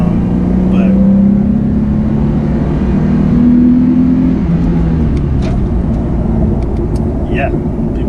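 A Nissan Z drones steadily while driving, a loud, continuous low engine hum from inside the car with slight rises in pitch as it accelerates, and a voice talking over it.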